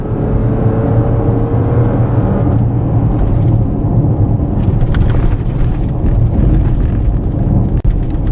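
A 2014 Lexus RX SUV rolls over a rough road, giving a steady loud low rumble of road and tire noise with a faint whir and occasional knocks from the suspension, heard with no talking.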